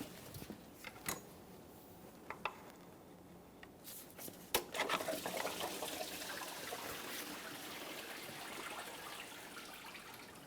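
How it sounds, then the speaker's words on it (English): Engine coolant drains from a 2010-2013 Kia Forte Koup 2.4L water pump, heard as a steady trickle and splash that builds from scattered drips into a continuous stream, close and fairly quiet. "the coolant is fully drained out"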